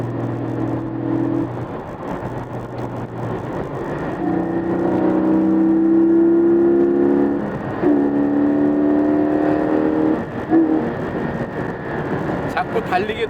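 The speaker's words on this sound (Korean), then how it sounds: "스포츠 배기 시스템, 좀 더 다이나믹한 배기음을 들을 수가 있습니다." A Porsche 718 Cayman GT4, a mid-engine boxer sports car with its sport exhaust engaged, pulls from low revs. The exhaust note climbs in rising sweeps across several gear changes, loud and close with a resonant drone.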